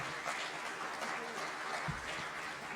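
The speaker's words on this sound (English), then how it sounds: "maybe just one more round of applause for what we've heard from the panel so far" Quiet, steady audience applause following a community panel discussion on school antisemitism, dense clapping heard from a distance throughout.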